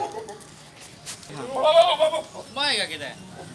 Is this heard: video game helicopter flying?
no